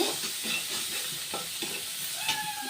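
Fried shrimp and bottle gourd are stirred in a sizzling pan. A spatula scrapes and turns the food in several close strokes over a continuous frying hiss.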